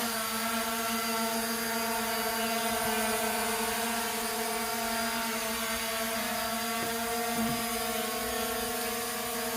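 A toy GPS drone flies indoors, its propellers giving a constant, even high-pitched buzz with steady tonal whine that holds at one level throughout, no talking.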